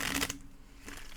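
Tarot cards riffling and shuffling in a short burst, a quick papery flutter that fades into quiet room tone.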